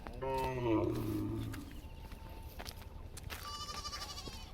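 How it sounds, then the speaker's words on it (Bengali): Goats bleat near a temple in quiet countryside, one clear drawn-out call near the start, then fainter calls further off against a soft outdoor background. "ছাগল ডাক শুনতে পাচ্ছ"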